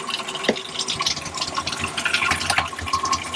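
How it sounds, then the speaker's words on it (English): Water sputters and splashes unevenly from a small faucet on a sailboat as air clears from the line, with irregular bursts and gurgles as air spits through the flow. "It's got air in it until it gets the air out of the line."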